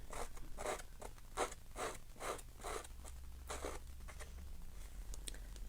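Scissor blade scraped slowly along a card's edge to fray it, about nine quiet rasping strokes in a steady rhythm, close and soft, followed by lighter scratches, with no talking.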